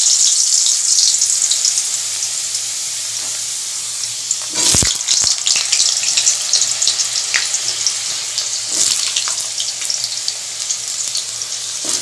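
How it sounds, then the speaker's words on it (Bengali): Salted potato pieces fry in hot oil tempered with white cumin seeds, giving a constant bright sizzle broken by a couple of louder bursts and clatter as they are stirred, with no speech. "এবার আলুগুলোও ছেড়ে দেবো একটু তেলে।"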